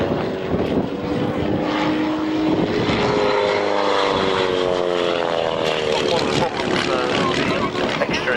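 A propeller airplane stalls and turns at a 1993 RAF Waddington airshow, its engine droning loudly and continuously as the pitch slowly shifts through the manoeuvre, with a voice commenting over it.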